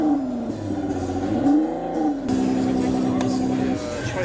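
A synthetic engine tone from an electric Abarth's sound system rises and falls in pitch like a revving car, played steadily through speakers with people talking over it at a car show.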